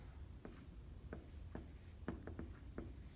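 Pen or pencil writing out a sentence by hand, with about seven short, crisp scratching strokes at uneven intervals, close and fairly quiet against a low background hum.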